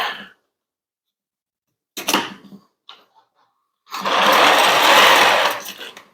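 A jammed winch being free spooled gives a short mechanical clatter, a few small clicks, then a sustained loud whirring, ratcheting run of the spool lasting about two seconds before slowing.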